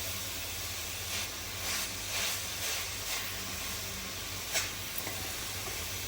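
Melted jaggery simmers in a pan, giving off a steady dense sizzle and bubbling hiss throughout, with soft stirring scrapes and a few small pops.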